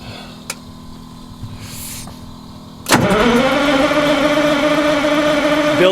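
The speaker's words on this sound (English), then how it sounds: "I have a feeling that in cranking her over, I'm gonna have to give her a little bit of a throttle" A cold engine in icy conditions cranks briefly and catches with a sharp burst, then holds a loud, steady fast idle with a little throttle, after a quiet stretch of faint background noise.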